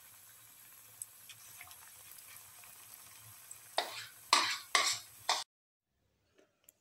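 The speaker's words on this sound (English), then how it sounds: "Put in the next batter" Bitter gourd, fenugreek and chickpea flour fritter batter drops into hot oil, bringing a faint background sizzle and then several louder spluttering bursts before sudden silence.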